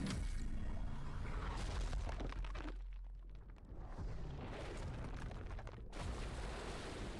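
Guardian's special 3 attack in Marvel Contest of Champions lands as a loud, sustained explosive boom with heavy low rumble, briefly easing before a second burst swells back in, with no talk.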